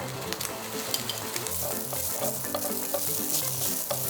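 Canned luncheon meat ham stir-fries in a hot pan, making a dense, continuous close sizzle with frequent clicks and scrapes of the spatula throughout, steady and unbroken, with no talking.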